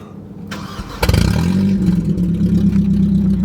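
A Mercedes-Benz car engine on a budget project car cranks briefly, then catches and settles into a steady, rumbling idle, loud and close, with a light rise in revs.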